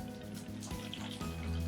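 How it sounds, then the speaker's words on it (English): Water is poured into a plastic sensory bottle during a children's craft session, making a brief, light trickling splash over soft background music. "if you hand down the bottle of water there, we can each put water in"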